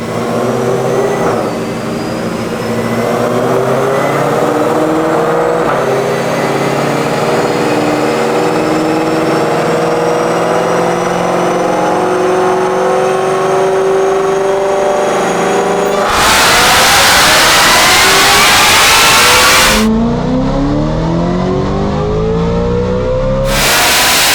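A 1000-horsepower twin-turbo Ford Mustang Mach 1 makes a sustained, loud pull on a chassis dyno, its engine and turbos climbing steadily in pitch before a roaring high-rpm burst near the end, then a sharp drop and a final surge.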